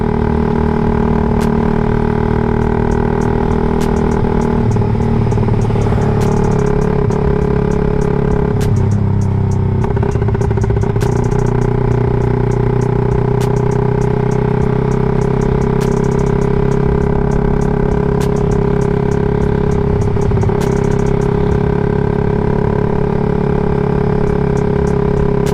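A Suzuki Raider 150 Fi motorcycle fitted with a CHA exhaust pipe runs loud and close, its steady engine drone rising and dipping with repeated throttle blips and revs, and no voices over it.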